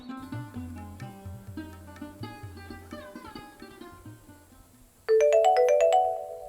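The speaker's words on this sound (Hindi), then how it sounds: "जा केकर फोन होले ये?" A mobile phone ringtone chimes loudly and alone for about a second and a half, cutting in after a stretch of quieter melodic music with a steady beat.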